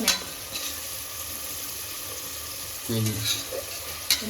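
Ginger paste frying with spices in a pan with carrots, onions, green chillies and mint, a steady low sizzle with a brief stirring clatter near the end.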